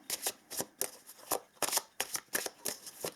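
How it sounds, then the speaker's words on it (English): Oracle cards are shuffled in quick, crisp riffling bursts, about ten close, bright flutters of card edges in a rapid uneven rhythm, with no speech over them. "let us pull a couple of oracle cards as well"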